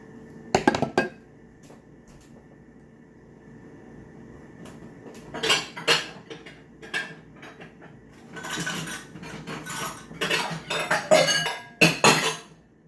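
A glass bowl and a metal sifter handled on a kitchen counter: scattered clinks and knocks at first, then a busier run of ringing glass taps, rattles and scraping clatter, close and fairly loud, with no talking.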